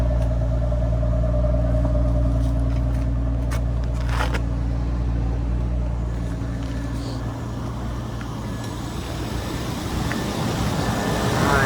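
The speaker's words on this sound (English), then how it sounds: "Engine running, there's no weird sounds." A Nissan Skyline R34 GT-T engine idles cold with a low, constant hum and faint mechanical rattle, continuous throughout with no voices.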